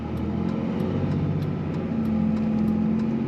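A 2003 Dodge Ram 3500 Laramie crew cab dually pickup with a diesel engine runs at a steady, loud idle, its low rumble holding evenly with a faint rhythmic ticking throughout.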